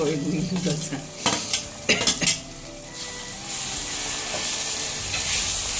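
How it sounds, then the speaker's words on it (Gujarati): Chopped onions sautéing in a pan for Kathiyawadi olo, with a steady close sizzle and a few bursts of spoon scraping and stirring against the metal early on, then continuous frying hiss alone. "આ કાંદા થોડા સતળાઈ ગયા છે. આવા જ સાતળવા દઈશું થોડીક વાર."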